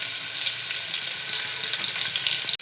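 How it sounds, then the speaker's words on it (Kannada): Onions with a few spices frying in hot oil, a steady close sizzle with a bright crackling hiss that holds evenly throughout and then cuts off abruptly at the end. "ಈರುಳ್ಳಿ ಫ್ರೈ ಆಗ್ತಾ ಇದೆ"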